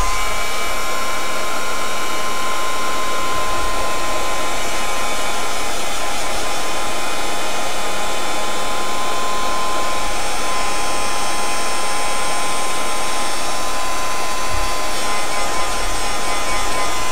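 Hair dryer blowing steadily up close to dry craft paint, a loud constant whoosh with a high whine that runs unbroken throughout.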